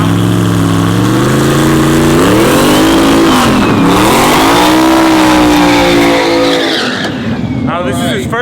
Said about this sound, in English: We got Frank driving his truck.